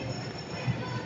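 Low rumbling of a train passing along a track near a play area outside a Jollibee, steady and moderately faint with no clear voices.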